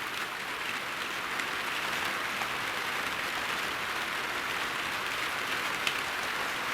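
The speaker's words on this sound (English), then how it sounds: "Lots of rain." Heavy rain falls steadily with a dense, even hiss of drops on surfaces, constant throughout with no talking.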